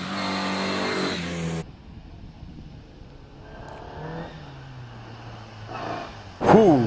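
Race car at the Prescott hill climb accelerating hard, a loud close engine roar at the start that cuts off, then a distant revving engine echoing across the hill, followed by a sharp high rising whine at the end.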